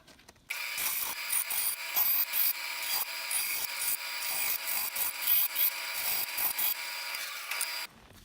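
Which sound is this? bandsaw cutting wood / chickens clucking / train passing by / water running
bandsaw cutting wood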